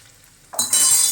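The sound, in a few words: stirring asafoetida and turmeric in hot oil in a pan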